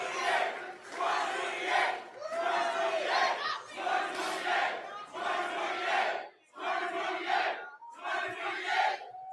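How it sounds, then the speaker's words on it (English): A large crowd chants "2028" in loud, rhythmic bursts, repeating the same short cadence about seven times with brief gaps between shouts. "So the crowd is chanting 2028."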